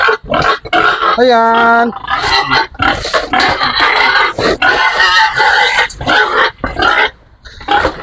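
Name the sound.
pigs grunting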